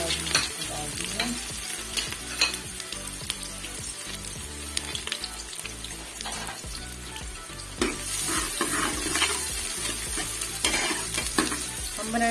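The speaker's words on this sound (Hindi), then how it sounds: "यहाँ मैं इसमें डालूंगी सबसे पहले प्याज डालूंगी" Chopped onions fry and sizzle in hot oil in a pan while a spoon stirs them, giving a steady crackling hiss broken by repeated scraping strokes, close and fairly loud, for making a black chickpea curry.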